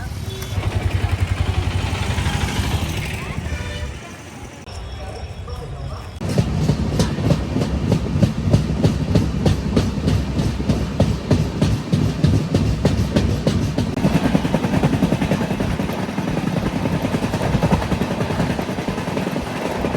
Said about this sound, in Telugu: ఇప్పుడు మేము చెన్నై రైల్వే స్టేషన్ ఉన్నామండి